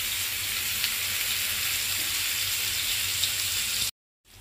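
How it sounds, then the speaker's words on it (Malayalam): Fish frying in hot oil in a pan during a Kerala-style lunch preparation: a loud, steady, close crackling sizzle that continues without a break, then cuts off abruptly. "അത് മാറ്റിയിട്ട് ഫിഷ് ഫ്രൈ. ചട്ടി ചൂടായ എണ്ണ ഒഴിക്കാം."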